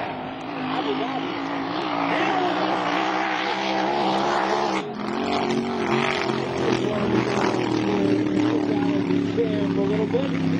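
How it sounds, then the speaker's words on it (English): Hydroplane powerboats race during GP Hydro World Championship testing at Morgan City, their engines a loud, continuous droning roar with rising and falling pitch as they pass, a brief dip midway. "How's that for some powerboat racing right there?"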